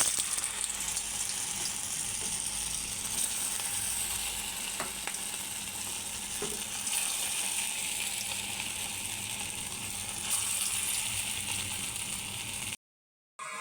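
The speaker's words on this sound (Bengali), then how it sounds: "তেলটা আমার এখন গরম হয়ে গেছে। এখন আমি একে একে কাটলেটগুলো ভেজে ফেলবো।" Cutlets fry in hot refined oil in a kadai, giving a dense, steady sizzle and crackle that runs continuously up close, with a few faint clinks and no talking, before cutting off abruptly near the end.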